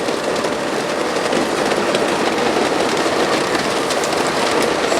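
A train rolls along railroad tracks in a steady, loud, broad rumble with a faint rattle throughout, and no one speaks.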